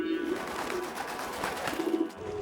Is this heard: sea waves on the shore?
no